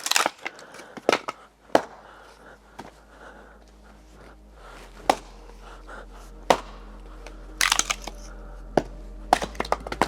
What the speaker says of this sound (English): there's a lot of wood chopping going on here at home